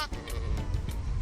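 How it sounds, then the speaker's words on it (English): A lamb bleats in a short, wavering, fairly close burst with nothing else around it. "Lamb."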